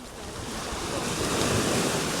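Ocean waves at a beach in Barbados in the evening, a steady loud wash of surf with wind noise and no voices.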